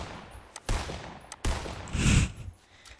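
Scoped rifle shots ring out in the video game Fortnite, with a few sharp, loud cracks spaced apart and a longer burst near the end, and no speech over them.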